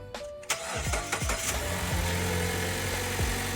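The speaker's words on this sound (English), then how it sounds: "fire up the engine" A 2017-2025 Mazda CX-5 engine cranks briefly, catches and settles into a steady mid-pitched idle, heard close up.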